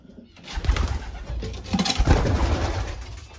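Pigeons cooing inside a pigeon loft at a young-bird racing event, low throaty coos repeating close by with some rustling, no talk.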